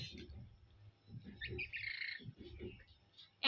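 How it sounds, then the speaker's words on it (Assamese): A bird eating jackfruit seeds in a home yard gives short bursts of nearby chirps and tweets, with low rustling and background murmur underneath. "এইটো চৰাইটোৱে কঁঠাল গুটি খাই আছে।"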